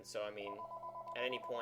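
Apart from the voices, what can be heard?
phone ringing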